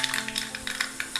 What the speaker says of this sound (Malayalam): ഈ കടുക് ഒന്ന് നന്നായിട്ട് പൊട്ടി വരണേ